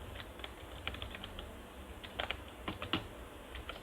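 Typing on a computer keyboard while writing PHP database code, with quick irregular clusters of close, light key taps over a low hum and no voices.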